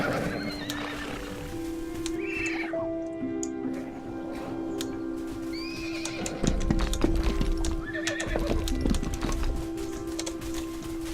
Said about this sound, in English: Oh, horses.